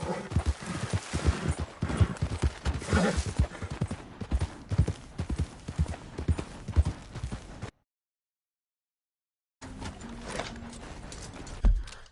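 In Red Dead Redemption 2, a horse gallops with loud, rapid hoofbeats in a driving rhythm, then a sudden silent gap and a softer return of movement sounds.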